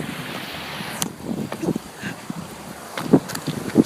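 Strong wind buffets the microphone at the edge of a waterfall, a steady broadband rush with scattered gusty thumps and a few sharper knocks near the end, with no talk.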